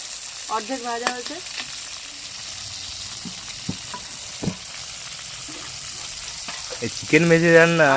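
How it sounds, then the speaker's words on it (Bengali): Chicken pieces fry in oil like fritters for Afghani chicken, a low hiss punctuated by scattered pops and clinks, close by, with a voice and brief speech-like tones over it near the end. "ভেজে নিতে হবে চিকেনটা এবার ভেজে নিতে হবে বড়ার মতো করে"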